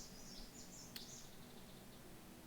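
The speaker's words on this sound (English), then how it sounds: "are those birds annoying? They sound annoying." Birds chirping outdoors, faint high tweets in short bursts over quiet background hiss, heard at a distance.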